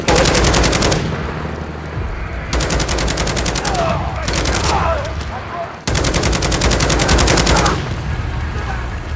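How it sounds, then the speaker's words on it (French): Rapid automatic gunfire from the Call of Duty Modern Warfare 3 video game, shots coming from a bridge, in loud sustained bursts that break off briefly and resume, with battle noise filling the gaps. "On me tire dessus depuis le pont."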